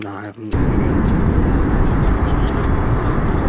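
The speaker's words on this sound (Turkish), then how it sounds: "Evet şu an uçağımız hareket halinde." An airliner taxis on the ground: a loud, steady engine roar and rumble starts abruptly after a brief muffled cabin moment and then holds without a break.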